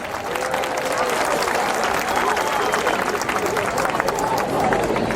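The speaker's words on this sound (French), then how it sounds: "Applaudissements pour Sophie, Johanna et les danseuses" A crowd at a show applauds singers and dancers, with loud, sustained clapping and some cheering that fill the space evenly from start to finish.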